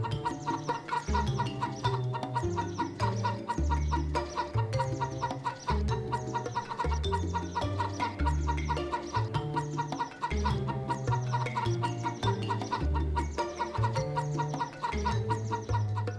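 Chickens clucking on an underground chicken farm, a steady loud flock sound layered over continuous rhythmic music throughout.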